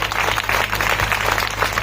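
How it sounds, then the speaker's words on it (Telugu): A sermon audience applauds for husbands, producing a brief burst of even, steady clapping from many hands with no speech over it. "అమ్మ అందరూ ఒకసారి భర్తలకి చప్పట్లు కొట్టండి"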